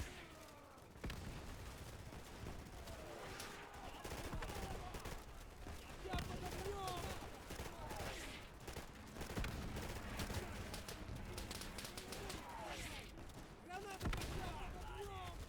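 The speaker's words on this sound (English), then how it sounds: "Called an artillery strike." In the WWII shooter Easy Red 2 at Stalingrad, an artillery strike lands amid a battle, with booming impacts mixed into continuous rifle and machine-gun fire. Voices shout over the din throughout.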